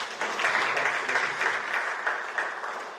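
Audience applause at a formal ceremony, honoring a United Nations migration representative, a steady, even wash of many hands clapping that holds for about three seconds with no talk over it.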